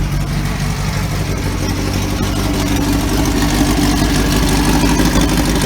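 A 1966 Baja Bug engine runs with its muffler removed, a loud, steady, raw exhaust idle with a deep, throbbing low rumble that holds unbroken throughout, with no voices.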